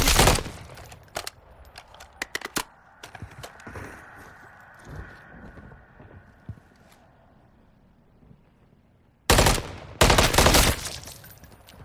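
Gunfire in Call of Duty Modern Warfare 3 Zombies, with bursts of sharp shots near the start, scattered quieter pops in a hushed middle stretch, then a loud, dense volley of rapid fire toward the end.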